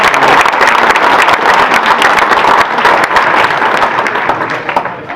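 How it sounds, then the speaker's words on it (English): Audience applause after a song at a land conservancy community gathering, a dense, steady wash of many hands clapping close and loud that thins slightly toward the end, with no talking over it. "please give a round of applause"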